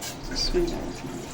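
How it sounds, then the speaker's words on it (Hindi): Water pours into a pot for kahwa, a short splashing trickle that swells briefly in the middle and then settles, heard close and fairly quiet. "सबसे पहले हम पानी ऐड करेंगे इसमें।"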